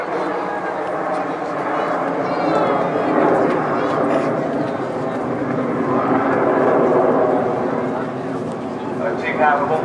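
Red Arrows jet aircraft flying a display loop at the 2010 Farnborough Airshow, a sustained broad roar that swells and fades as they pass, heard under a commentator talking throughout.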